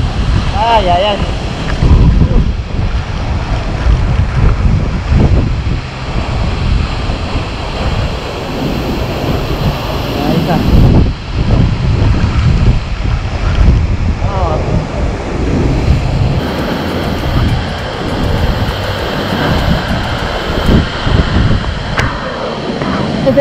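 Rushing water at the Ducha del Diablo waterfall near Aguaytía, Peru, a steady loud roar mixed with wind buffeting the microphone, with a person talking over it at times.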